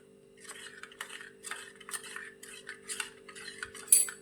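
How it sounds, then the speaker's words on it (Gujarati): Spoon clinking and scraping against a bowl as spice paste is mixed with water for a Gujarati brinjal dish, a series of close, light metallic stirring strokes in a quiet kitchen. "બધા જ મસાલાને સારી રીતે મિક્સ કરી અંદર થોડું પાણી એડ કરી અને તેની પેસ્ટ તૈયાર કરીશું"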